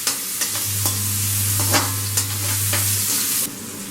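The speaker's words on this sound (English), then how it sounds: "Again give it a nice stir." Egg fried rice with capsicum stirred in a hot pan, loud steady sizzle with several quick scraping strokes and a low hum through most of it, no talking.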